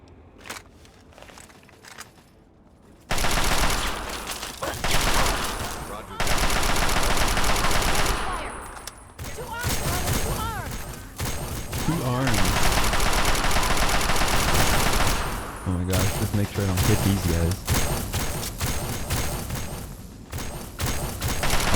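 Gunfire from Brotherhood of Steel soldiers in Fallout 3, loud sustained bursts of rapid automatic shooting mixed with explosions and clatter, nearly continuous over a long stretch after a quieter opening.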